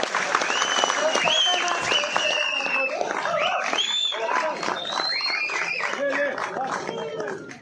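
A crowd at a film press meet claps together in a sustained burst, with voices and cheering mixed in over the applause.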